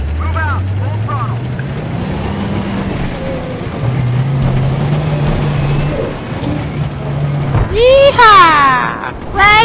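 A tank engine revving at full throttle in Battlefield 3, a loud, low, steady drone with rising pitch shifts under spoken voices, broken near the end by sharp bursts of other noise.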